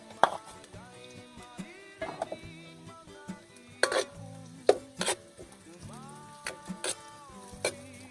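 Ginger drops into cooking oil that was already used to fry meat, giving a light sizzle under repeated sharp clanks and scrapes of a utensil stirring the pan.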